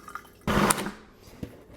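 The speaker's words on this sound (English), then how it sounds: "I'm going to add in 1 tablespoon of water." A tablespoon of water pours into blended avocado lime ranch dressing in a blender, a short close splash and trickle that lasts under half a second, with a small drip just after.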